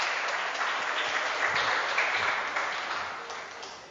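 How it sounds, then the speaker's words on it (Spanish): A church congregation bursts into dense, sustained applause during a sermon, many hands clapping loudly together and slowly fading toward the end. "Y denle un aplauso más fuerte."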